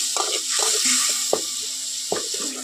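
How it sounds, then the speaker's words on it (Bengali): Spices with salt, turmeric and water stirred in a pan for bhindi masala. A spoon scrapes in several separate strokes over a steady bubbling sizzle, close and clear. "এখন জল দিয়ে সবগুলো মশলা খুব ভালো করে কষিয়ে নেব।"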